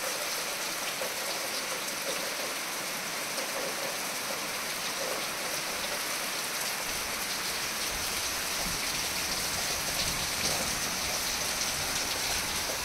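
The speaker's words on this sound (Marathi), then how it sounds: "पाऊस अजून चालू आहे." Steady rain falls continuously, a dense even hiss of drops with no voices.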